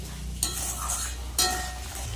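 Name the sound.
frying spice paste with chili powder and salt in oil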